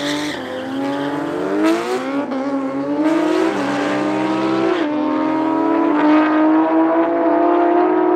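A 1400-horsepower drag racing car accelerates hard at an airfield drag strip, its loud engine note climbing through several rising gear shifts with tire squeal, close and continuous.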